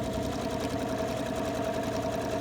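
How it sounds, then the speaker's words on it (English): A sewing machine stitches along the edge of a cloth face mask, running a steady, continuous whirring hum close up, with no talking over it. "now I can sew across here"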